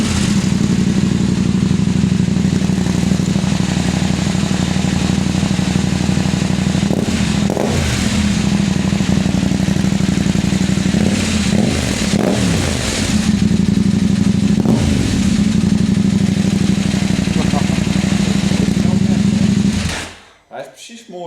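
A KTM 890 Adventure motorcycle with an open, de-catted Black Widow exhaust idles loudly with a deep throaty sound, rising in several revs before cutting off abruptly near the end.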